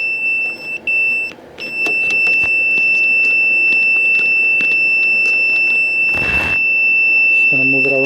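A multimeter in continuity mode gives a steady, high electronic beep that holds for several seconds while testing the headlight cables of a 2003–2006 Porsche, with brief breaks early on and a person speaking over it.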